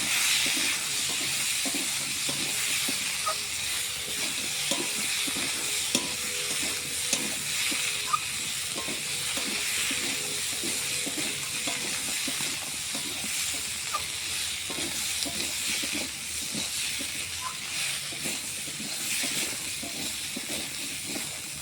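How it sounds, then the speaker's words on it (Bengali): Fried prawns being stirred into potatoes frying in oil, a long, steady hissing sizzle with faint, irregular scrapes of a spoon against the pan. "আগে থেকে ভেজে রাখা সেই চিংড়ি মাছটা আমি আলুর মধ্যে দিয়ে দেবো দিয়ে ভালো করে নাড়ব"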